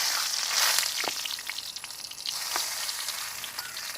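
A steady, loud sizzle of three cut dried red chillies frying in hot oil, with a few faint stirring clicks, close up.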